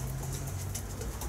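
Racing pigeons coo at a Romanian pigeon loft, soft low calls blending into a continuous close background of bird sounds, with no speech.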